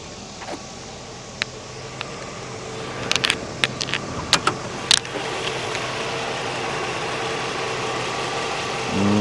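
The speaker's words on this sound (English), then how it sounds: "So smooth. It's idling so smooth right now." A Mercedes 500SEC widebody with ABC suspension idles smoothly and steadily nearby, a low even engine hum with a few sharp clicks and ticks over it and no talking.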